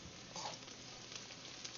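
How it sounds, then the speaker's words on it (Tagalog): Bottle gourd (upo) sautéing in a pan, a faint, steady sizzle with a few soft stirring scrapes, quiet and continuous. "Ayan, nagigisa na si Mrs."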